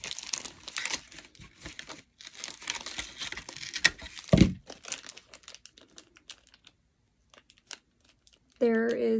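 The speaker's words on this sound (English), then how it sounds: "I'm trying to get the tape up." Packing tape being peeled and torn off a cardboard doll box: crinkly, crackling tearing and rustling bursts, close and fairly loud, with a brief thump, then a quiet pause before another sound at the end.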